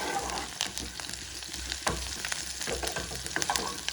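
Curry leaves, green chillies and ginger crackle and sizzle in a pan for a kadhi, a dense close frying hiss with occasional stirring clinks and no talking.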